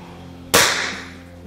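A single sharp shot from an EKOL Thunder air rifle fired without a moderator, a loud close crack with a ringing tail that fades over about a second.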